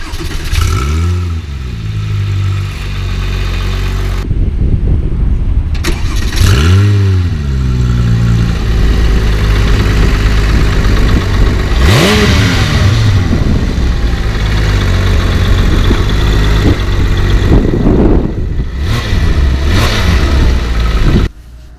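A Porsche 997 GT3 RS engine idles loudly up close, then revs sharply several times, each rev rising and falling before settling back to a rumble.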